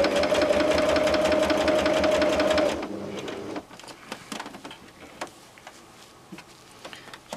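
Sewing machine stitching a shoulder bag, a steady rapid mechanical chatter for about three seconds that stops abruptly, followed by quieter handling clicks and taps.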